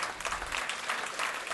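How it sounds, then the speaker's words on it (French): Brief, fairly faint applause from an audience at a speech, a steady patter of many hands clapping at some distance. "on peut l'applaudir."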